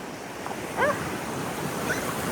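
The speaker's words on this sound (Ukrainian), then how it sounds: "а далі якісь великі хвилі" Big sea waves at a busy Phuket beach: a continuous wash of surf with wind noise across the microphone, and a few faint distant calls rising briefly above it.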